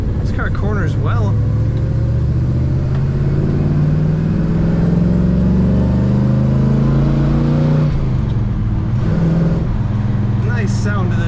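A 1970 Chevrolet Chevelle's engine drones loudly while driving, pitch climbing steadily through a gear, dropping at a shift, then pulling again, heard from inside the cabin with a voice speaking briefly.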